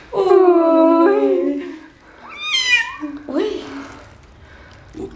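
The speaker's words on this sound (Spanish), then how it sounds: "¿Has visto que hay un gatito?" A tiny kitten meows close by indoors, a few drawn-out and rising cries, while a person speaks softly in Spanish around it.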